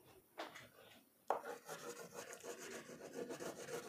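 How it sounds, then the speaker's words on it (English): Brown crayon colouring on paper, faint close scratchy rubbing strokes, a couple of brief ones followed by continuous back-and-forth scribbling. "We will be using a brown crayon to color the pot."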